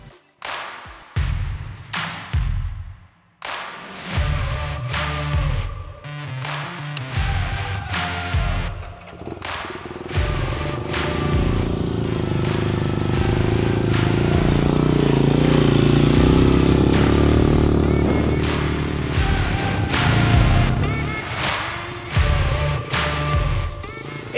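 A Benelli Imperiale 400 classic motorcycle engine rumbles steadily through a ride, with intermittent thumps and bumps, rising to a sustained louder drone midway before easing back.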